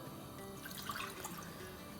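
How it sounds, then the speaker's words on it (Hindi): A cup of water is poured into a wok on a stove, giving a short, steady splashing trickle close by with no talking. "इसमें डालते हैं 1 कप पानी"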